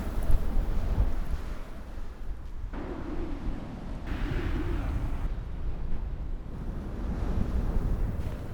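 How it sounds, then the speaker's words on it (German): Strong mountain wind at about 1800 metres in a Japanese ski area buffets and rumbles across the microphone in uneven gusts, a low, blustery roar that swells and eases. "Und jetzt kommt der Wind"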